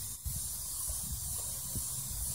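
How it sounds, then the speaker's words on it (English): Steady hiss of a spray bottle misting cleaner onto a car headlight, close and continuous, with a few faint knocks underneath. "And then what you can do is just spray the whole light."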